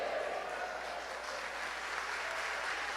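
Members of a church congregation at an evening family service clap together, making a steady, continuous roll of applause that fills the room without a break.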